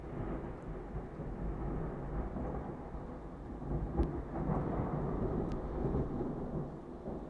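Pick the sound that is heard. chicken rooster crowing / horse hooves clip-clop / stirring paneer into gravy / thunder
thunder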